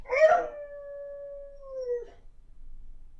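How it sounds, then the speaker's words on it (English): A dog gives one drawn-out, mournful howl after its toy falls off the couch. It opens with a whimpery yelp, holds the tone for about two seconds, then trails off into silence, close and alone. "This dog has an overly dramatic reaction when their toy falls off the couch."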